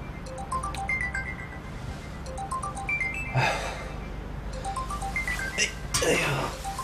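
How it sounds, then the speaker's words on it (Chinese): A mobile phone plays a repeating melodic ringtone of bright stepped notes at moderate volume, while a person nearby makes a couple of short coughing or throat-clearing bursts. "你电话响"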